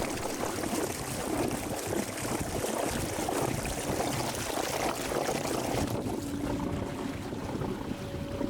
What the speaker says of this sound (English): You can hear this gargling sound because the propeller is too close to the sea surface.